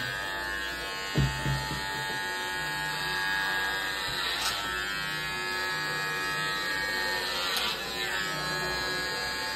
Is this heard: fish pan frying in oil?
no